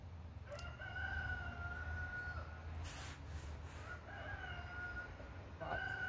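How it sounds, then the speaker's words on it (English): A robot rooster crows outdoors, with two harmonic cock-a-doodle-doo calls rising over steady background noise and a low hum, each fairly faint and a few seconds apart. "There's that rooster. There's that rooster everybody loves."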